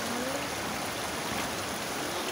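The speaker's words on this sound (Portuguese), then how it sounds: "A água tá passando por cima do meu pé." Floodwater rushes steadily through a flooded street, a constant dense wash of flowing water at close range with no pauses or voices.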